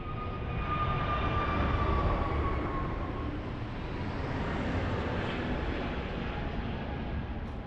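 An aircraft takes off at Lisbon Airport, its jet engines roaring in a steady, loud rush with a falling whine that lasts throughout, heard from a distance with no talk.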